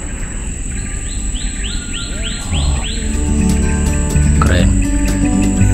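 Birds feeding on fruit up in trees sing a repeated series of rising whistled notes over a steady insect drone, fairly close and clear, with a brief spoken word partway through.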